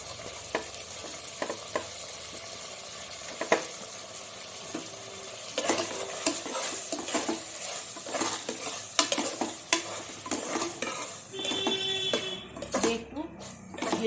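Green chili, spring onion greens and peas stir-fried in a pan for egg biryani, with steady sizzling broken by repeated scraping and clinking of a utensil against the pan, growing busier and louder in the second half.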